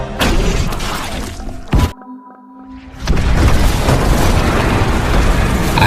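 An explosion in a film, a loud booming burst with rumbling debris, a sudden near-silent gap, then the roar returns and carries on to the end.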